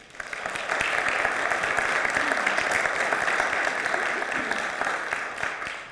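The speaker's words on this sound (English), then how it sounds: "Big round of applause." A church congregation gives a big round of applause during a vision project proposal Q&A session, a broad, even roar of many clapping hands that holds steady for several seconds at moderate volume.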